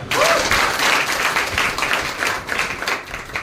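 A crowd applauds loudly at a direct selling session, dense sustained clapping from many hands that fills the whole moment at close range.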